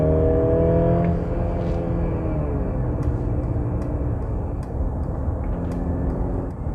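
A 2023 Mercedes GLC 300 SUV in sport mode accelerates hard with a downshift, its engine note rising then settling into a steady loud drone with tire and road roar, heard from inside the cabin with no talk.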